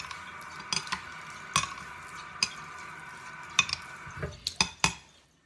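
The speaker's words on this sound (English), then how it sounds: "So let's do some finishing strokes with water." Finishing strokes on a wet natural whetstone give a close series of short, gritty scrapes and clicks at an uneven pace, about a dozen in all, with no talking.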